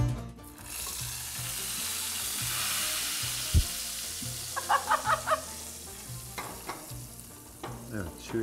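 Melted butter with mint is poured onto hot food, setting off a loud, steady sizzle that fades into crackling, with quick clicks and clatters of kitchen utensils near the end and no speech.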